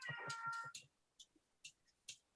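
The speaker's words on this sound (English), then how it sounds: "I love this cat." A cat meows insistently several times in a quick burst near the microphone, then falls into short, fainter intermittent cries with pauses between them.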